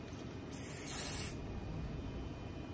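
A short burst from a nearly empty aerosol spray can, a bright hiss lasting under a second over a quiet room background.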